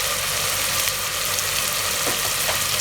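Beef yakhni pulao ingredients frying and being stirred in a pot, a steady close sizzle with a few faint utensil scrapes.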